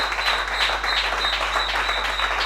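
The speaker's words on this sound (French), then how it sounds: "est-ce qu'on peut acclamer le Seigneur?" A church congregation applauds, a dense sustained wave of clapping filling the hall with steady loudness throughout.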